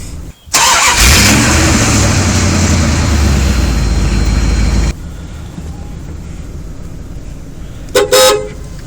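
A 1990 Dodge Ram 250 van engine cranks and fires up loudly, then roars at a steady high idle for several seconds before settling to a quieter run, with a short sharp burst near the end.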